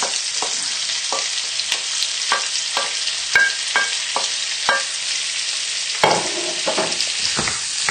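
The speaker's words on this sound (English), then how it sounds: "Give it a good stir together to break up the grated ginger and get everything nice and coated with the oil." Onion, grated ginger and spices frying in melted butter for lamb jalfrezi, a constant close sizzle punctuated by a rhythmic series of spoon scrapes and knocks against the pan, busier toward the end; no voices.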